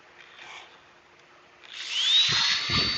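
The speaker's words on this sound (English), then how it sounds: "use electric sanding" Electric power sander working a woodturning piece: a short quiet stretch, then a loud motor whine that climbs in pitch over steady abrasive hiss, with a few heavier contact rumbles near the end.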